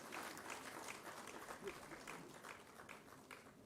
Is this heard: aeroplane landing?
no